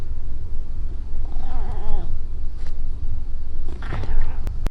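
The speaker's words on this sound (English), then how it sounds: "Grumbly meows." A cat lets out low, grumbly meows in two drawn-out wavering calls, close and fairly loud over a rumbling background.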